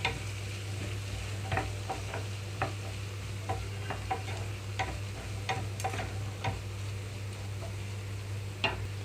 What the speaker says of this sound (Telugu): ఉల్లిపాయలు అయితే కొద్దిగా వేగినాయి కదా ఇప్పుడు ఇందులోకి నేను బీన్స్ వేసేసుకుంటున్నాను